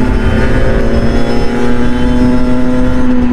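A derestricted motorcycle on its stock exhaust revs loud and close, a sustained buzzy engine note holding steady with slight rises in pitch, no talk over it.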